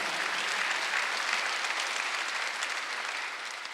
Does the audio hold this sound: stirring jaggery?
no